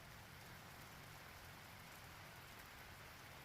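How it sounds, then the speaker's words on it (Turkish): Steady, dense rain pours down without pause beside a canal in France, a continuous hiss of drops striking surfaces close by. "Vallahi iyi yağmur yağıyor"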